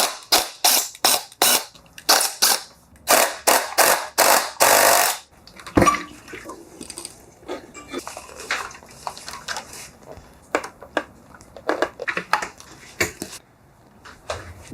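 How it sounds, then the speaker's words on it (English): Tools work on the fuel tank mounts of a Yamaha XSR700 motorcycle, with loud ratcheting or rasping bursts in quick sequence followed by scattered clinks, clicks and handling noises up close. "take off the mounts for the tank here so we can lift the tank up"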